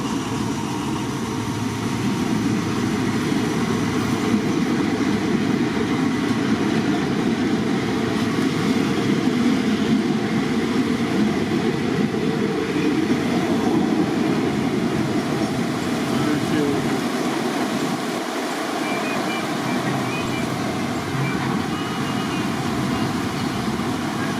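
Locomotive 4405 hauls a passenger train along the trackside at Makkasan, giving a steady, loud rumble of engine and rolling wheels that holds throughout with no breaks.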